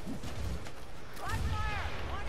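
A grenade explodes in the fantasy combat game Warhammer: Vermintide 2, a muffled low boom amid steady battle noise, with a brief warbling tone above it.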